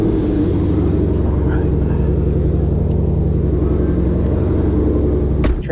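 A 2020 Ford Mustang Shelby GT500 Track Pack with a 760-horsepower engine rumbles loudly and continuously from inside the car, its deep exhaust note building steadily.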